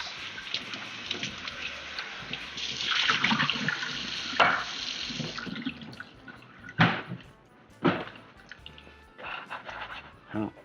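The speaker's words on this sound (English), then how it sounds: "We'll do a quick rinse." Tap water running into a large bowl during a quick rinse in a home kitchen while cooking Cajun stuffed pasta shells, a steady splashing stream followed by a few short bursts and drips as the water is tipped out.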